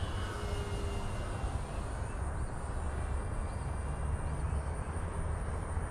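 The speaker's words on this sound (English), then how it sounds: "run down the runway, lift off, gear up" An FMS warbird RC airplane powered on a 6S 5000 battery runs down a runway and lifts off, its electric motor and propeller giving a steady, continuous drone with wind-like rumble throughout, no voices.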